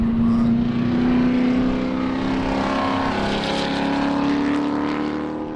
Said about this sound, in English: you'll hear them as they make their way up through the S's behind me, following the pace car